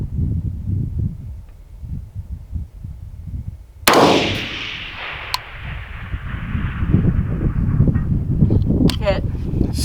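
A single rifle shot, 5.56 or 300 Blackout, fired at a target 1000 yards away, a sharp loud crack partway through with a long fading tail, amid wind noise and people talking before and after.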